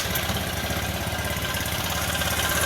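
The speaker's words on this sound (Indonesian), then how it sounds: "Motor sudah hidup" Honda Vario 110 carburetor scooter engine running at idle, a steady, close mechanical chugging hum with even pulsing and no voices.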